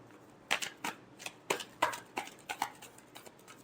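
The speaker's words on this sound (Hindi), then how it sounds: "last shuffle" Tarot cards are shuffled by hand in a rapid run of crisp, riffling flicks and soft taps, close and fairly quiet, with no voice over them.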